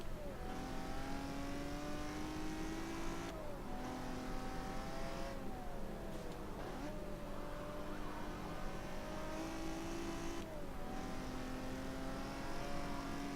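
A Ferrari Le Mans race car in Forza Motorsport 7 roars continuously, the engine pitch sweeping upward through gears and dipping at several shift points, loud and close with faint tire noise.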